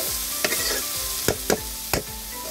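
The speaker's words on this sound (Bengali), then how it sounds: "এখন ভালোভাবে নেড়ে নিব।" Potatoes fry in a hot pan with cumin powder and other spices while a spoon stirs, giving four or five distinct scraping strokes over a continuous low sizzle.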